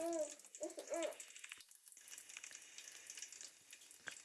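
Cumin, mustard seeds and chana dal frying in hot oil give a faint, steady crackling sizzle, opened by a few short tonal hoot-like squeals before the frying noise settles.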